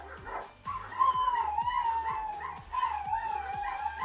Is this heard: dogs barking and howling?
yes